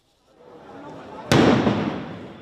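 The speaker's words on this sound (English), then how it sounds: "A fresh wave of explosions across Lebanon" A walkie-talkie explosion in Lebanon goes off as a single sharp, loud blast. It follows a rising murmur of crowd noise and leaves a rumbling tail.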